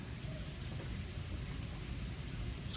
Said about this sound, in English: It's a huge downpour.